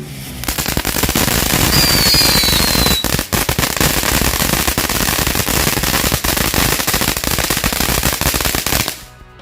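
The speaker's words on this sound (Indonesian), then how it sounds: "Untuk yang pertama kita nyalain mercon blowing flower." A blowing flower firework fountain goes off outdoors, a loud, continuous dense crackling and popping spray lasting several seconds before cutting off abruptly.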